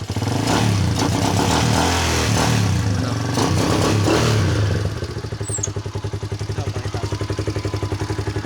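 A kick-started motorcycle with a faulty digital panel gauge roars loudly and roughly for several seconds, then drops into a steady, pulsing idle.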